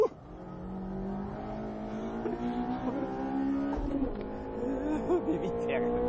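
A Spoon Honda Civic Euro Type R race car in a four-wheel drift: a revving engine whines and shifts pitch with faint tire noise, while a commentator talks excitedly over it.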